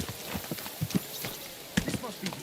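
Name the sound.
horse hooves, from the video game Kingdom Come Deliverance 2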